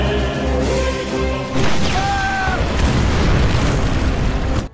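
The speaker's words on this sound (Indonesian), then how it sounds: "ia melesakkan senjatanya hingga seluruh jebakannya meledak" Explosions from booby traps set off by gunfire in a war film scene, a loud broadband blast sustained across several seconds with a whistling tone midway and rumbling debris.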